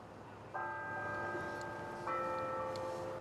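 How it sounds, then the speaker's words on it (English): Campus bells at the University of Idaho ring out in steady sustained tones, a second bell or chord entering partway through, ringing over a quiet outdoor hush with no talk. "As bells on campus rang"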